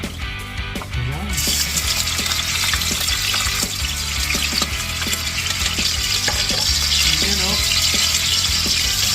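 Garlic frying in hot cooking oil, a steady, close sizzle that runs throughout with occasional stirring clicks and a brief voice over it.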